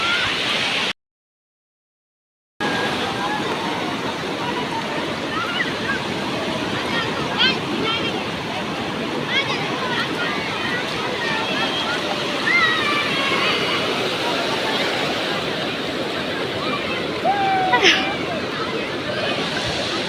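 Sea waves break on the beach at Digha in a continuous loud roar of surf and wash, with a crowd's babble and voices mixed into the constant rush.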